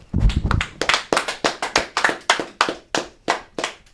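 Two rounds of hand clapping from a sports talk show host: rapid, crisp, evenly spaced claps run for about four seconds, close and fairly loud, with a brief voice underneath at the start.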